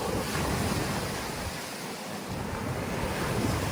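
Sea waves wash onto the beach at Laiya, Batangas, a continuous loud surf rush with wind buffeting the microphone and a brief dip midway.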